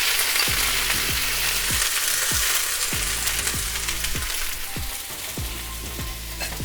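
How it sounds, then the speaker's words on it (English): Vegetables sizzle steadily in hot oil on a hibachi-style cooktop, a loud continuous hiss broken by a regular series of sharp metallic scrapes and taps as they are stirred. "After we add our oil, we're going to add the veggies."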